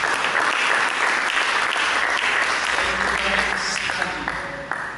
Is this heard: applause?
yes